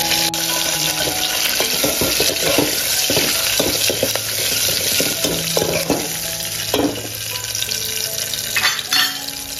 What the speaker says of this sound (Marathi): आपला जिरा पण आणि लसूण पण छान प्रकारे परतोय, फ्राय होतोय